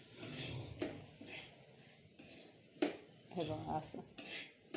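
Crumbled leftover chapati pieces stirred in a pan, giving soft scraping and intermittent metallic clinks of a spoon against the pan, with a brief spoken phrase over it.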